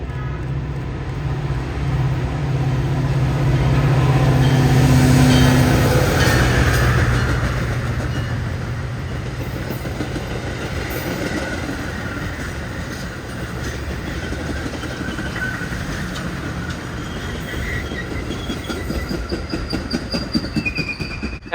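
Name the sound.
Metro commuter train passing with F40PH locomotive 119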